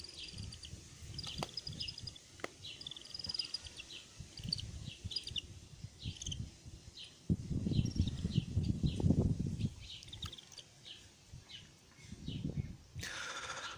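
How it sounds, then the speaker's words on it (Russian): Small birds chirp and call faintly at a bird of prey nursery, with intermittent high tweets over a quiet outdoor background of insect-like chirring and occasional low rustles. "Очень классные птички."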